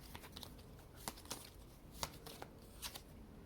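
Tarot cards are shuffled and drawn close up, giving a quiet run of papery riffles and several sharp flicks and snaps as individual cards are pulled from the deck.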